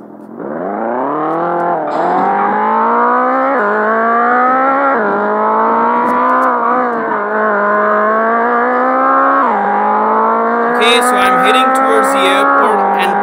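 A Japanese car in the Extreme Car Driving Simulator video game accelerates hard through the gears, its engine note climbing steadily with shift dips, loud and close; a brief whooshing burst appears near the end.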